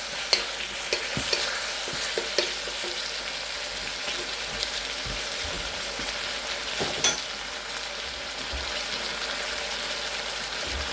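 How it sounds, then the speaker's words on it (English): Shrimp, zucchini and vegetables hiss and sizzle continuously in a hot pan as they are stir-fried, with occasional scraping knocks from stirring, loud and close. "And we'll keep on stir frying."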